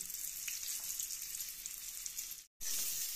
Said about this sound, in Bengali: দিয়ে একটু হালকা করে নেড়ে চেড়ে নিচ্ছি